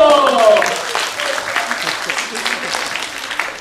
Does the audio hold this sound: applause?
yes